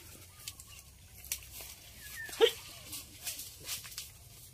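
Dogs give a few faint, scattered yelps and whimpers outdoors over low background rumble, with brief bird-like chirps mixed in.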